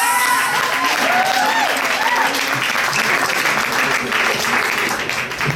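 Dense, loud applause rolls on steadily from a large crowd at a tribute concert, with a few shouts and cheers mixed in, easing off slightly at the end.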